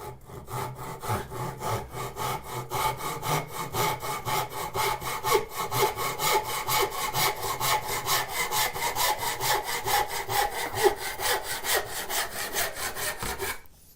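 Steady back-and-forth strokes of a hand saw cutting wood in a shop, a close, even rhythm of rasping pushes and pulls continuing throughout with no talking.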